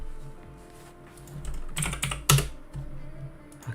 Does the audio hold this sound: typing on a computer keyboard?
yes